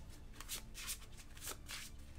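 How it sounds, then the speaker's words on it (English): A deck of Champions of Midgard board game cards is shuffled by hand in quick riffling bursts, several soft papery flutters in a row, close but quiet. "all we're basically going to do with these is shuffle them up and then create a draw pile"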